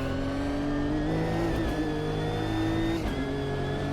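A Nissan GT3 race car engine in the Automobilista 2 driving game holds a steady, loud, sustained drone with slight pitch shifts as revs change, heard close and continuous with no talking.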